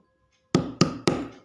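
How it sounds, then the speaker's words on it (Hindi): Three firm knocks on a door, a horror-story sound effect, evenly spaced and close, following a brief quiet moment with no voices. "दरवाजे पर किसी ने दस्तक दी।"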